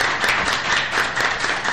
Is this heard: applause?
yes